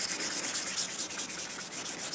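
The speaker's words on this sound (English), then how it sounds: "This is pretty good quality Gator wet dry sandpaper, so works pretty good on metal, works pretty good on this micarta" A knife with a micarta handle is sanded by hand with 600-grit Gator wet dry sandpaper, producing close, rhythmic, hissing strokes in quick repeated passes.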